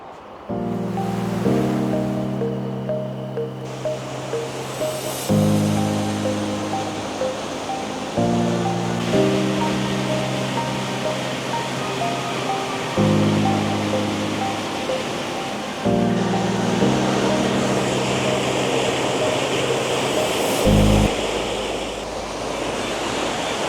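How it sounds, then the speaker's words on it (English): Hedge Creek Falls, a waterfall in Northern California, gives a steady broadband rush of falling water, loud and continuous throughout, with deeper low rumbling that cuts in and out over the constant roar. "This first waterfall is Hedge Creek Falls."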